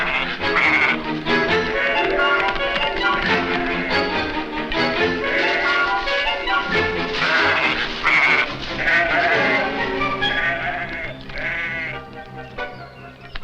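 Repeated goat bleats in Gir Forest, loud and close, overlapping in a busy stream of wavering cries with little pause between them.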